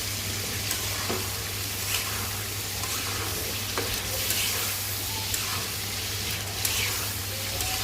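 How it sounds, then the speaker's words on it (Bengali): Onions and spices with a little water sauté in oil in a pan for a rohu fish curry, making a constant close sizzle with occasional stirring scrapes. "তেল উঠা পর্যন্ত একটু কষাবো"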